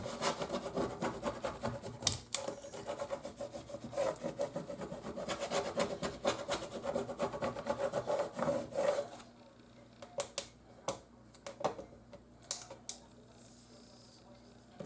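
Tape being rubbed down onto vinyl on a flat surface, close, quiet repeated scratchy rubbing strokes that thin out into a few sparse taps and scuffs toward the end.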